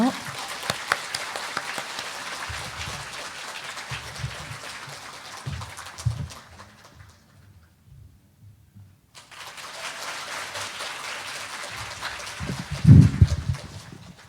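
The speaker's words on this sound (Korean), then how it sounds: "박수로 맞아주세요" Lecture-hall audience applauding to welcome a lecturer at the National Museum of Korea, steady broadband clapping that stops for about two seconds, then resumes with a few louder bumps near the end.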